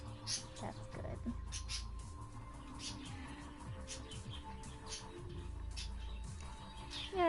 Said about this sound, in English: You hear the birds, huh?